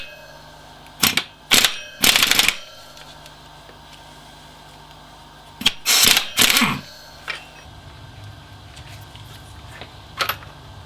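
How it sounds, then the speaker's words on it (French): An impact wrench unscrewing the pulley of a car's air-conditioning compressor on a Renault Rodius: several short, loud hammering bursts come in two groups, each of a few quick rattling blows, with quiet pauses between them. "bloquer la poulie derrière et puis essayer de dévisser avec la clé à impact"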